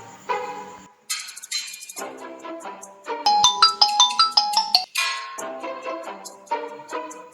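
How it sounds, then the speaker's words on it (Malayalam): A mobile phone rings for an incoming call with a bright melodic ringtone, a run of chiming notes repeating clearly and alone. "Missed call."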